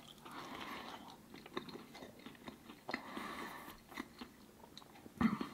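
Someone bites into and chews crispy frozen pizza close to the microphone, giving soft repeated crunches and mouth sounds at an irregular pace, quiet overall with a few sharper bites.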